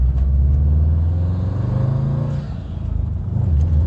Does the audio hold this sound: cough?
no